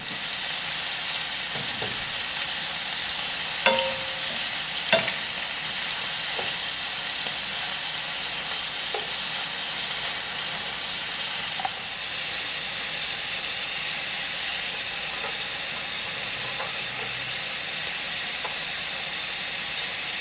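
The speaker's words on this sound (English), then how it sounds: "I just added in about 7 cloves of garlic right into the skillet where the shrimp is cooking" Shrimp and about seven garlic cloves sizzle in a skillet, a steady loud frying hiss across the whole stretch, broken by a few sharp utensil clinks and scrapes, with no talking.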